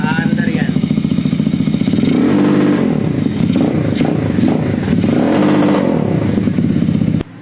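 A stock motorcycle engine held against its rev limiter, a loud, close, steady buzzing drone with rapid rhythmic stuttering and wavering pitch, a voice talking over it throughout.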